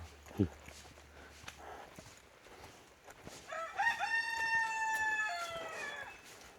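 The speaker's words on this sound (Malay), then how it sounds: "Ada ayam hutan." A jungle fowl crows once at the edge of a village at night, a drawn-out, mid-distance call rising over faint rustling and background ambience.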